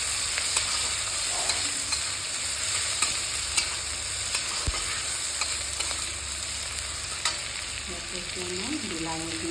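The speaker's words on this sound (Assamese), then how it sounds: "এতিয়া পিঁয়াজখিনি অলপ দি দিছোঁ।" Onions fry in a pan for an Assamese-style egg curry, a dense, steady sizzle close up, broken by frequent small clicks and scrapes of stirring.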